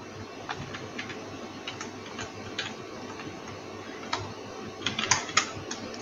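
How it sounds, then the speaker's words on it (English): A computer keyboard clicks quietly as a web address is typed into a browser's address bar, with irregular soft keystrokes building to a quick cluster of taps near the end, without any voice. "So in the address bar, I am going to type the website address of the search engine."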